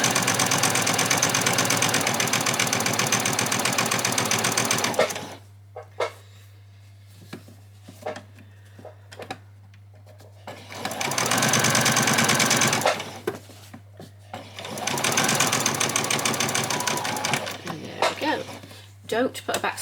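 A sewing machine stitches fabric for an apron in loud, steady mechanical runs, three separate bursts of whirring separated by quieter gaps in which a person talks.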